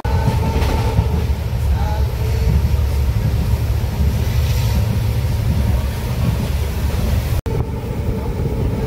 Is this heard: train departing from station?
yes